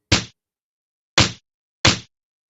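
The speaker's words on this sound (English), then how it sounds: "Or there's a knock at the door." Door knock sound effect, three sharp, dry raps on wood, one alone and then a quick pair after a pause, crisp and close with silence between.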